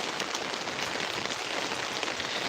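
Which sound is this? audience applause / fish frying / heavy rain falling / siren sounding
heavy rain falling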